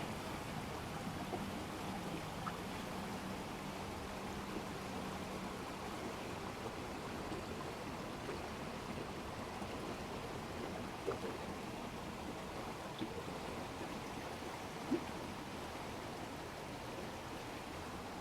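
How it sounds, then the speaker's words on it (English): The Yantic River flows past a bridge in a Connecticut village, a soft, even rush of water that stays low and steady the whole time, with no talking. "The Yantic River is flowing at a decent pace."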